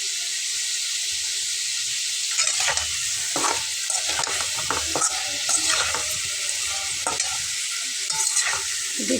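Potatoes and black cumin seeds fry in a pan with a steady crackling sizzle, while a spatula stirs and scrapes in irregular strokes.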